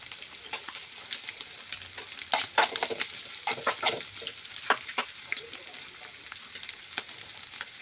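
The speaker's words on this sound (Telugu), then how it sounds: "నేను పచ్చిమిర్చి ఇవి వేసేస్తున్నాను." Green chillies fry in a hot pan for an egg curry, giving a steady close sizzle with crackling spits and a few louder bursts as they hit the oil, with no voices.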